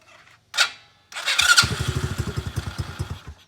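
An X-pro Bolt 110cc motorcycle with choke and throttle trouble cranks, catches, and putters in a rapid, close, choppy idle for a couple of seconds before dying out.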